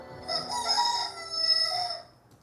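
A rooster crows alone, a loud, close cock-a-doodle-doo that rises and holds for about two seconds before trailing off.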